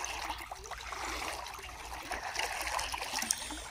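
Flowing water current heard on a fishing outing in Saudi Arabia, a continuous rushing and trickling wash at moderate distance, fairly quiet and without speech.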